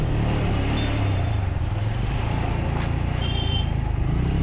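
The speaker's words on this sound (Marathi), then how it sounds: "आम्ही आता ह्याला ट्रॅफिकमध्ये आलो आहे आता" Road traffic on a motorcycle ride from Mahad to Thane: a steady, loud rumble of trucks and cars close by, with a brief high brake squeal and no talk.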